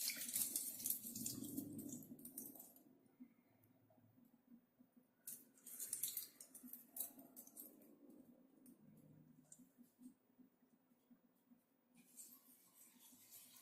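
Rice rinsed by hand with filtered water in a pot gives faint swishing and trickling, with brief bursts of pouring water, quiet and close, with no talking.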